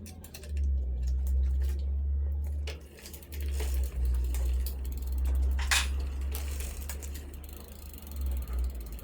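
The barrel adjuster on a kid's bike is turned tight, giving off a series of small, close ratcheting clicks over a low, steady hum. No one speaks.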